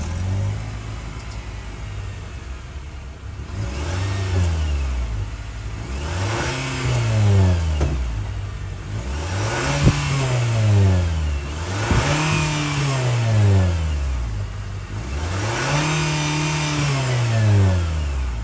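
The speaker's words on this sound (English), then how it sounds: "that was the sound of the 2-liter 4-cylinder sold by Nissan for the 2024 Sentra SV" The 2.0-liter four-cylinder engine of a 2024 Nissan Sentra SV is revved repeatedly from idle, about six loud, close rising-and-falling sweeps spaced a few seconds apart, with no talking.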